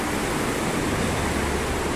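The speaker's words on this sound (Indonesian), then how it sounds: "Ini merupakan sungai yang ada di Lubuk Minturun, Kota Padang." Rushing water of a clear river at Lubuk Minturun in Padang, a steady broadband wash that stays loud and unbroken throughout with no voices.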